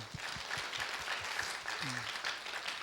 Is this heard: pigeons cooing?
no